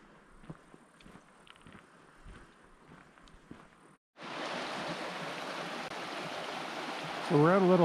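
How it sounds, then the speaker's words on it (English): A little side creek near an old bridge on a mountain trail: after a quiet stretch, steady rushing water suddenly fills the sound up close and continues loudly, with a voice briefly heard near the end. "So we're at a little side creek,"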